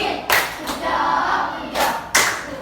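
Classroom of students giving a short rhythmic clapping cheer, a few bursts of hand claps spaced apart in a quick pattern, close and fairly loud with no talking.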